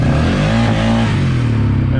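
Car engine revving hard and bouncing off the rev limiter, loud and close, with a steady sputtering drone and pitch wavering as the limiter cuts in.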